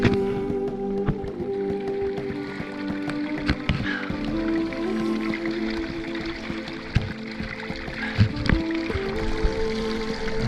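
A stream of drinkable water in Pahalgam, Kashmir, running as a steady nearby burble with scattered drips and splashes, overlaid by faint tonal background hum and occasional soft thumps.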